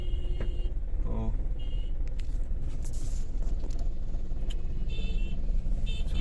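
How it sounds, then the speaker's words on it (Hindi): A heavy road traffic jam in Bulandshahr during the election period: a continuous close rumble of engines, with scattered horn honks and beeps over the din. "जहां तक नजर जाएगी वहां तक सिर्फ ट्रैफिक ही ट्रैफिक मिलेगा आपको।"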